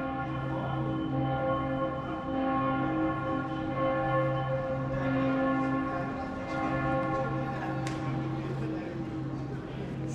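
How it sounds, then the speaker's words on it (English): Church bells ring at seven o'clock at a Christmas market in Bolzano, a steady sustained peal of resonant tones carrying over a busy outdoor crowd murmur. "Church bells are ringing."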